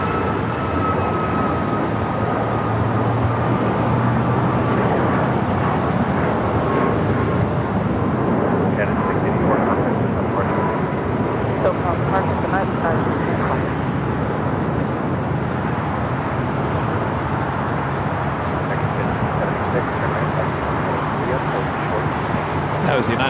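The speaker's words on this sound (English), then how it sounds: "That was United Airlines Flight 684 heading to Seattle and a 737 at MAX 9" A United Airlines Boeing 737 MAX 9 bound for Seattle takes off at LAX, a steady broad engine roar holding strong throughout, heard from a distance with a voice speaking over it.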